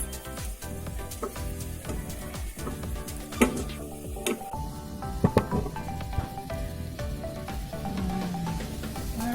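Buttered garlic shrimp sizzle steadily in a hot pan, a close crackling hiss with occasional sharper pops and stirring clicks, no talking over it.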